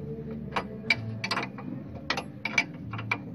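Wrench loosening a truck steering tie rod during suspension removal, a run of sharp close metallic ratchet clicks and taps at an uneven pace.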